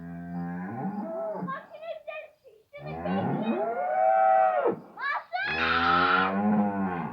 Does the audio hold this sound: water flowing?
no